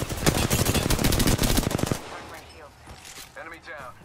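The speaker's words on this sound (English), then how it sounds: "They're shooting at me." Automatic gunfire in the video game Apex Legends rattles in a loud, rapid burst for about two seconds, then gives way to quieter in-game sounds with faint chirps.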